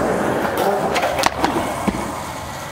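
Skateboard wheels roll rough and steady across pavement during a wall ride attempt, with a few sharp knocks and clacks of the board and impacts near the end, recorded close.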